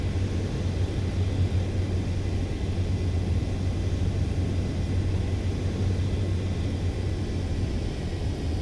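A jet aircraft coming in to land on a runway in Ace Combat 7, a steady loud engine roar with deep low rumble and broad hiss that holds constant throughout, with no voices.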